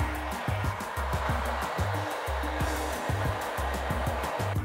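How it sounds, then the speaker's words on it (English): A blow dryer runs steadily while drying and lifting hair in a salon, a continuous airy hiss layered over a thumping rhythmic beat that pulses underneath. "You wanna make sure that you're over directing the blow dryer with the hair."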